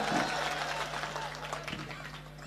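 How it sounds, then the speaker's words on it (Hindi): Audience applause at a Hindi comic poetry gathering (hasya kavi sammelan): a dense, steady wash of clapping that fills the whole stretch, with a low steady hum underneath. "मुझे तालियां बजाकर आदेशित कर दो"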